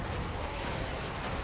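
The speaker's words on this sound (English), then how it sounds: "Big explosions coming in from our catapults." Catapult explosions rumble in a Total War: Warhammer 3 battle, a thick continuous wall of booming, crackling blasts that runs through the whole short moment without a break.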